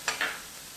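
Soy sauce hitting sizzling chicken filling in a hot pan, two quick hissing bursts followed by a steady close frying sizzle, brief and without talk.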